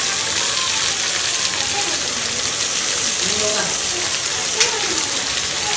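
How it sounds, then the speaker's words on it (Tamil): Curry leaves and onions sauté in a pan, a loud, steady wash of sizzling and bubbling with a faint voice underneath. "நல்லா வதங்கிட்டுருக்கு."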